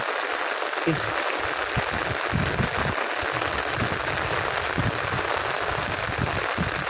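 Steady rain hisses across the whole recording, a dense wash of patter with low rumbling bursts scattered underneath.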